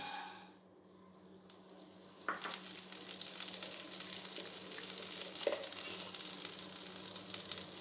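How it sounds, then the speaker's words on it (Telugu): A cup of vermicelli hits a hot kadai and starts frying, a quiet start swelling into a steady close sizzle with sporadic spatula scrapes and taps as it is stirred for payasam, no talk. "ఇప్పుడు మనం అదే బాండీలో ఒక కప్పు సేమియాలను వేసి వేయించుకుందాం"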